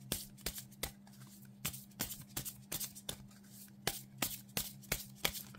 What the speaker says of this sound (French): on va tirer une des cartes et on lira le petit message dans le fascicule